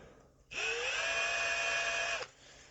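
A Ryobi One+ cordless drill runs in regular drill mode, a smooth, steady high-pitched motor whine that spins up quickly, holds for under two seconds and cuts off cleanly, close to the microphone.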